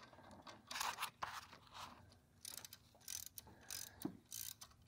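A ratchet clicks in short, uneven bursts while loosening a bolt on a C5 Corvette during torque tube removal, close but quiet with brief gaps between strokes.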